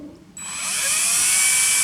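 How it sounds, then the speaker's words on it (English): Power drill starting up after a quiet moment, its high whining motor rising in pitch and holding loud and steady to the end, close by with no talk. "When you're ready to use the drill, you set the drill down where you want the hole."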